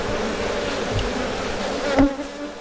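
Stingless bees buzz in a close, steady hum while a hive comb is handled, with a brief louder flare near the end.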